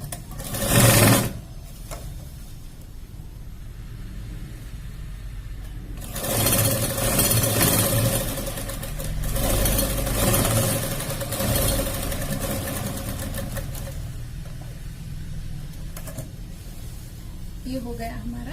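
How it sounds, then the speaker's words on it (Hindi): A sewing machine stitches the pallu of a nauvari saree in steady whirring runs of several seconds, with quieter stretches in between, and a voice talks nearby. "अब यहाँ पे मैं पल्लू को स्टिच कर लूंगी"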